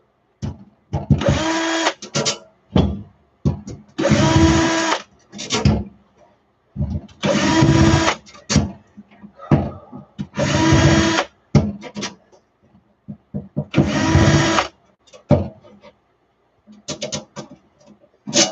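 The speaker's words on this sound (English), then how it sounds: "take these couple screws out for these fans." A power drill removes a couple of screws from computer fans, sounding in several short, loud whirring bursts of a few seconds each, separated by pauses and small clicks and handling noises.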